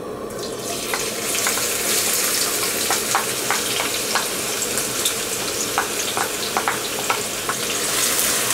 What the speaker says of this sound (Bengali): পেঁয়াজগুলোকে হালকা একটু ব্রাউন করে ভেজে নেব।